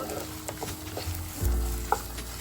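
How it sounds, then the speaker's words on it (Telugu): Sesame seeds frying in hot oil while being stirred for a bottle gourd chutney, a soft steady sizzle with scraping stir strokes and a few light clinks, fairly quiet and with no voices. "నువ్వులను కూడా మంచిగా ఫ్రై చేసుకోవాలండి ఆయిల్లో"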